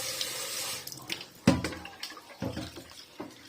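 Chicken pieces for biryani washed under a running kitchen tap, with gushing water, sharp splashes and sloshing as the meat is handled in the bowl.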